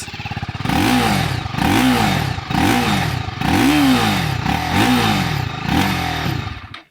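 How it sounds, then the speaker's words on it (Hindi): TVS Apache RTR 310 motorcycle riding, its engine note rising and falling in a steady cycle of about six loud revving surges as the rider accelerates and shifts, with no talking. "This is how the Apache RTR 310 rides. And this is how it sounds."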